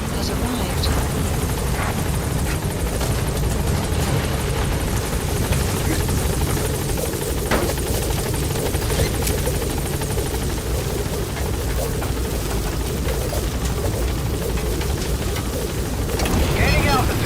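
Support helicopter arriving in Metal Gear Solid V: The Phantom Pain, a steady, loud rotor roar filling the whole stretch with a dense, constant rumble and no clear breaks.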